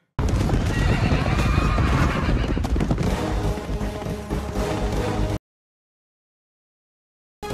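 A horse whinnies loudly in the film Gladiator, with hoof clip-clops and rough movement around it, before the sound cuts off into silence.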